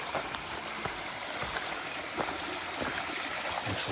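Small stream trickling and gurgling as a campsite water source, a soft, continuous babble of flowing water heard close by and alone.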